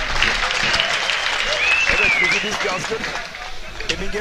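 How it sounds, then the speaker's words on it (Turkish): Crowd applause fills an outdoor oil wrestling arena at a quarter-final match in Karaçulha, Fethiye, Muğla, steady and dense throughout, with a whistle cutting through and crowd babble mixed in. "Pehlivanlarımıza kocaman bir alkış yapalım."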